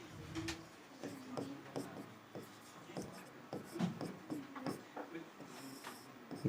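Chalk or marker scratches and taps on a board in short, uneven strokes while a teacher explains converting a galvanometer into a voltmeter, the writing sounds close and soft under the speech.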